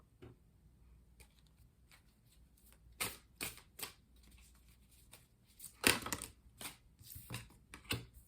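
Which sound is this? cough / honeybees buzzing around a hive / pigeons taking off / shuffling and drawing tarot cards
shuffling and drawing tarot cards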